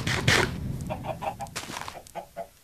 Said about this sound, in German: Ja, Hühner, Hühner, Hühner.